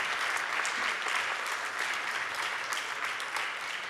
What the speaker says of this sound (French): Je vous propose d'applaudir le panel d'intervenants de ce soir.